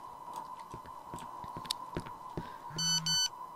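A mobile phone message alert in the horror game Cry of Fear sounds as a short electronic double beep near the end, loud and distinct over a steady tone with soft ticks and clicks.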